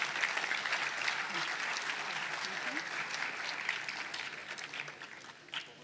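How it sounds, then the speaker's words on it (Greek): Sustained, steady applause from an audience for the Paralimni municipal mandolin orchestra at a mandolin festival concert, a dense even clapping that fills the whole stretch without pause or voices. "Ας τους χειροκροτήσουμε."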